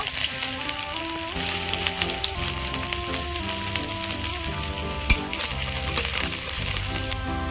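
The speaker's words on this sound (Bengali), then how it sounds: "রসুনগুলো ভেজে নেব" Garlic cloves sizzle and crackle steadily in hot oil in a pan while a Bengali susuni greens dish is prepared, a close, continuous frying hiss with a few sharper pops and no voices.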